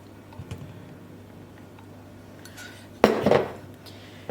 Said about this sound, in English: So we need the butter. Make sure you scrape it all out.